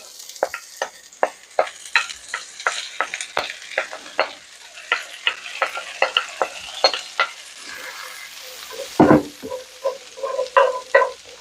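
Two cloves of chopped garlic hit a hot pan and fry with a steady sizzle, broken by a quick run of sharp stirring and scraping clicks, close and alone with no voices.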